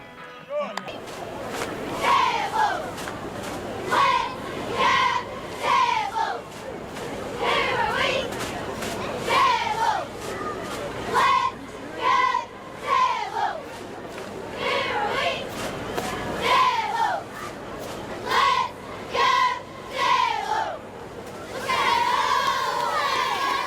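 Maplesville high school cheerleaders chanting and shouting in rhythmic bursts, loud and close, repeated call after call with short pauses.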